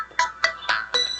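A mobile phone ringtone rings loudly and close by in four repeated bright bursts, sounding alone without speech.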